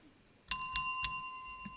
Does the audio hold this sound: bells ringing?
yes